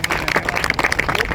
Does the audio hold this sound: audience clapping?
yes